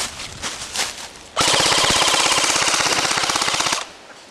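Airsoft guns shooting small plastic BBs, first a few scattered near pops, then a rapid sustained automatic burst of evenly spaced cracks lasting a couple of seconds before it cuts off.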